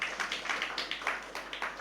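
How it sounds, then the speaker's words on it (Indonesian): A church congregation applauds during a worship service, many hands clapping in a quick, steady rhythm that carries through the whole moment. "Mari berikan tepuk tangan bagi Tuhan Yesus."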